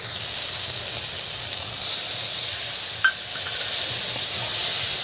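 Cumin paste sizzles in hot oil in a wok with radhuni and cumin seed tempering, a steady close hiss that briefly swells as it is stirred, with a faint scrape of the spatula.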